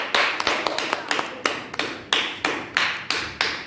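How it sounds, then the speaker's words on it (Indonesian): A classroom gives a round of applause for a student named Liana: a dozen or so sharp, evenly spaced claps in a steady rhythm, fairly close and moderately loud, over a quiet room. "Beri tepuk tangan buat Liana."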